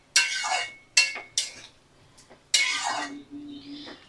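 A spoon stirs pumpkin and Malabar spinach stems in a pot with water, making close scraping, clattering strokes in several quick bursts with short pauses between them.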